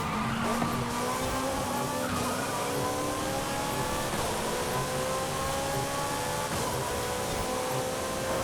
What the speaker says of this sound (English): my F40 usually has a high, it revs up pretty high